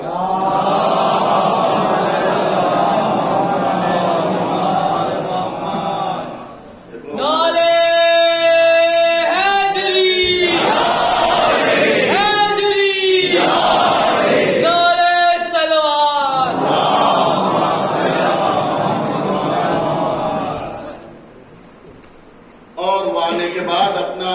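A congregation at a Muharram gathering in an imambara chants salawat in unison in response to a call, its loud, rhythmic waves of voices rising between stretches of a single man's amplified speech.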